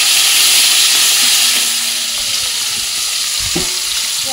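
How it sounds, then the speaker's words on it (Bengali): Prawns hiss loudly as they hit hot oil with fried cumin in a wok, a close, bright, continuous sizzle with occasional clinks of a utensil against the metal and no talk. "এবার আমি চিংড়ি মাছটাকে ভেজে নেব"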